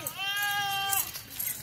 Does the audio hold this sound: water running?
no